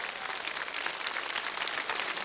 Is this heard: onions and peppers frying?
no